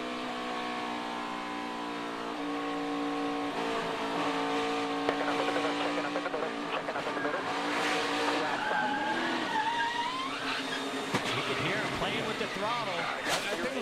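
NASCAR stock cars racing in the 2018 FireKeepers Casino 400, with loud droning engines, and one car getting loose and spinning out after contact with another, with tire squeal and skidding over excited commentary.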